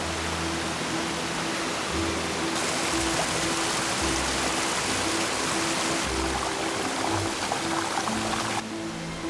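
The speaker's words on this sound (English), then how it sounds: "this is Crabtree Falls, the largest waterfall that resides on the east coast of the United States" Crabtree Falls in Virginia's Blue Ridge Mountains roars steadily and loudly, a dense unbroken rush of falling water filling the whole stretch with no voices.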